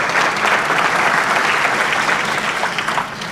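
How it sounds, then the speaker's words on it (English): An indoor audience claps in dense, sustained applause, loud and even throughout before tapering off slightly at the end, with no talk over it. "Let's give them all a round of applause."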